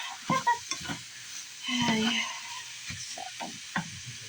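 Ground beef browning in a hot pan for beefy noodles, sizzling steadily while a utensil stirs and scrapes in short bursts, close and moderately loud, with occasional clinks.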